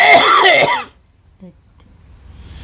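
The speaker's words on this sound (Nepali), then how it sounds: "खोकी लाग्यो हो हजुर" A single harsh cough or throat clearing sounds close by, preceded by a brief stretch of talking, then near silence.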